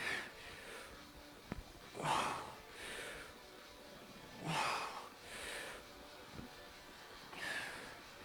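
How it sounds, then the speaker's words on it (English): Heavy breaths drawn in and pushed out through the nose during a HIIT workout, several distinct whooshing exhalations spaced a couple of seconds apart, close and fairly loud with no talk over them. "See if you can just keep breathing in and out through the nose."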